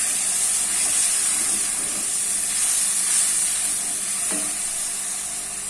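Tadka of red chilli spices sizzling and hissing in hot oil for a ridge gourd curry, a steady close fry with bursts of steam and faint stirring throughout.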